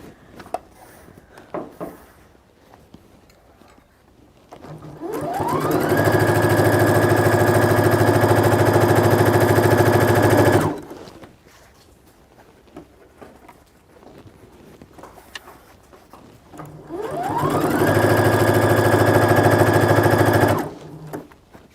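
A sewing machine hems the edges of fabric in two sustained runs of steady mechanical whirring, each lasting several seconds and separated by quieter pauses with faint handling noises.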